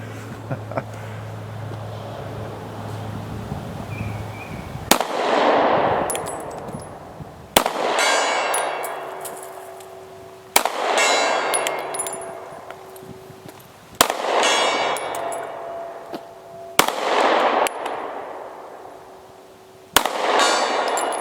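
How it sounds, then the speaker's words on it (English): Sharp pistol shots from a pocket 9mm strike a steel gong outdoors, six or seven loud reports each followed by a bright ringing clang that decays over a couple of seconds, spaced a few seconds apart with no talking. "Let's just go ahead and put a few on the gong."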